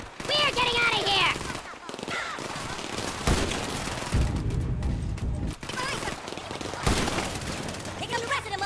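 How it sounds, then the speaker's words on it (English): Gunfire from a GTA 5 mission rattles in dense bursts of automatic shots mixed with louder booms, continuing through the whole stretch amid game sounds and voices. "If we go out this way, we'll have some cover from Michael's gun."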